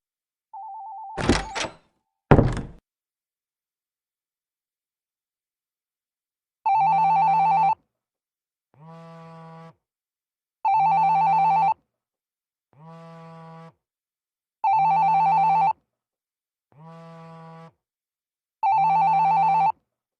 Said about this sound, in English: It's my phone. It's ringing.